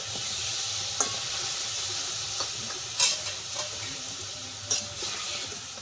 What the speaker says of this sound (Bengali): এইভাবে গুড়টা আমি গলিয়ে একটু পাতলা করে নেব।